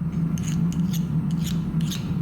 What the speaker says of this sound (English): I'm going to try the chainsaw file.